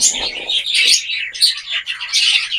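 Gouldian finches chirp in a cage, bright high tweets and short calls in quick irregular bursts, close and fairly loud, with no voices heard.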